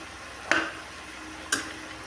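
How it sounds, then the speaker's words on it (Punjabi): Cabbage and peas sabzi being stirred in a pan, heard as two brief scraping taps of a utensil about a second apart over a faint background hiss. "ਫਿਰ ਆਪਾਂ ਇਹਨੂੰ ਚੰਗੀ ਤਰ੍ਹਾਂ ਮਿਕਸ ਕਰ ਦੇਣਾ"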